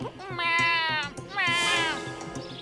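A cat gives two drawn-out meows in quick succession, fairly close and clear, the second rising and slightly longer, with faint background noise between them.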